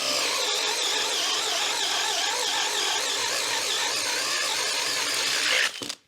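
A drill bores with a Vira Rage Forstner bit, giving a loud, sustained high-pitched whirring grind with a wavering tone that cuts off abruptly at the end.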